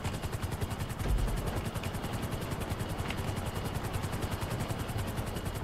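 A helicopter's rotor in GTA 5 Online thumps in a fast, steady pulse throughout, loud and continuous, with no talking.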